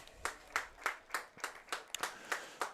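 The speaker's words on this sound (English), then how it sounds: "Let's give a big round of applause for Dylan Schmidt" Sparse, rhythmic clapping from a few hands at a North Dakota high school football game, about nine distinct claps in a slow, even beat at moderate distance.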